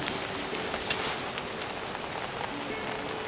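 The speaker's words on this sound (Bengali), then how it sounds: "বাইরে বিভৎস বৃষ্টি হচ্ছে" Heavy rain falls outside near a forest watchtower under overcast skies, a steady close hiss of drops striking surfaces, with scattered sharper taps and no voices.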